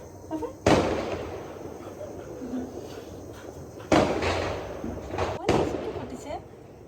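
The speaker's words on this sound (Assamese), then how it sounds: "বম ফুটিছে" Diwali firecracker bombs burst in three loud, sharp bangs outdoors near a home, each followed by a brief rumbling tail, with people talking in between.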